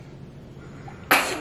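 A woman sneezes once, sharp and sudden, close and loud after a quiet moment of room noise.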